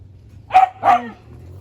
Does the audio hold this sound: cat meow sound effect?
no